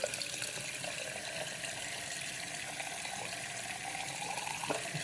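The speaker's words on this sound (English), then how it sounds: "I'm almost at the point where I'm gonna run some water and see how we do." Water runs steadily from a bathroom sink faucet after unclogging, a faint continuous hiss and splash close by with no talking.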